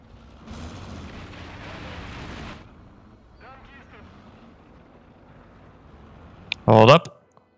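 Mortar shells fire and burst in the World War II game Gates of Hell at Seelow Heights: a rumbling blast early on, quieter battlefield noise, then a loud sharp explosion near the end, with talk over parts of it.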